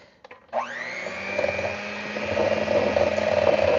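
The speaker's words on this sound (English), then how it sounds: "we're going to take our mixer and we're going to mix" An electric hand mixer starts up and whirs steadily as it beats about a cup and a half of sugar with butter for an old-fashioned buttermilk pie, the motor hum rising slightly in pitch and loudness over a few seconds, with no talking.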